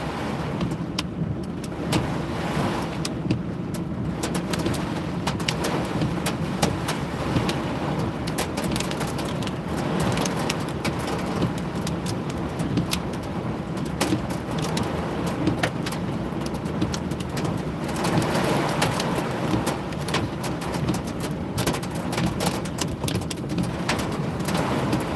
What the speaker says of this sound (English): The hail's just starting to come in now.